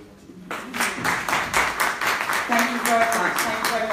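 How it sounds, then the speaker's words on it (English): An audience breaks into steady, rhythmic clapping after a talk on bipolar disorder, claps continuing for several seconds while voices murmur underneath. "Let's give another big round of applause"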